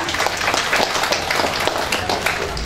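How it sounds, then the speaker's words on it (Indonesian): Audience applause at a corporate webinar session, a dense steady patter of many hands clapping throughout at moderate loudness, with no break and no voices standing out. "beri tepuk tangan untuk kita semua"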